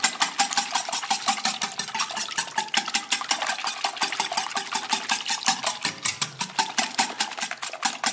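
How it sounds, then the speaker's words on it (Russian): A whisk beats water into eggs in a plastic container for a sugar mash, giving a fast, even, repetitive scraping and clattering that runs steadily and closely for several seconds with no talking. "и венчиком взбиваем до однородной массы"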